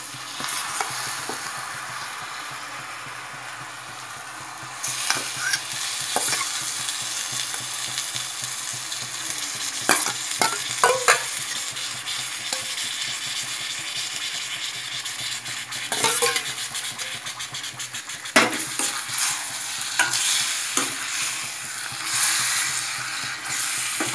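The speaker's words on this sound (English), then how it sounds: "Right now you can add your mutton to it, which I've already washed and kept aside." Mutton pieces sizzle and fry in hot oil for a Hyderabadi-style curry, a steady loud crackle with occasional clinks of a spoon stirring against the pot, close and continuous with no talking.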